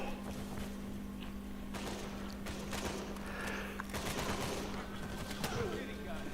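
Gunfire in the video game Uncharted, with sharp bursts and rattling shots scattered across a steady game soundscape with a constant low hum, while players talk over the action.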